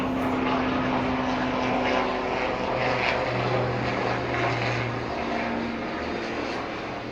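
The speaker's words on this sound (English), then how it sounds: "Sorry for the helicopter noise" A helicopter passing overhead, a steady droning rotor and engine roar that stays loud and fairly constant throughout, heard on its own.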